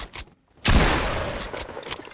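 Gunfire in the mobile version of Fortnite, played in creative mode: a sharp burst after a brief silence, followed by a fast rattling volley of shots with a few quieter pops near the end.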